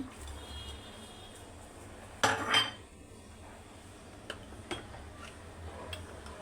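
Ginger, garlic and onion paste being mixed in a pot for beef tehari, a quiet background broken by a sharp metallic clatter of a utensil against the pot, then a few light taps.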